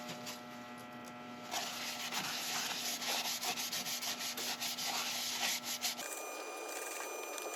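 An abrasive paste is rubbed onto a spalted wood bowl on a lathe, a steady close scratchy rubbing over a faint hum, starting after a second and a half and stopping abruptly near six seconds.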